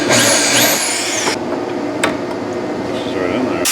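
A power drill with a 3/8 inch chuck, used while relocating a Javelin's battery to the trunk, whines loudly with a rising, falling pitch for about a second, then stops, leaving low room noise and a sharp knock.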